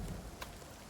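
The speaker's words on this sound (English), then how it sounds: "Oh, it's hailing." Hail falling in the video game Nightingale, a faint steady patter of pelting ice with one brief brighter crack partway through, and no voices.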